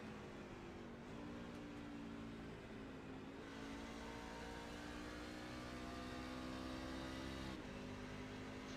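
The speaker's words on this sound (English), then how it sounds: "Sounds like Bentley is downshifting." A stock car in a racing video game at Phoenix drones steadily around the track, with engine pitch dropping at downshifts, loud and continuous with no voices.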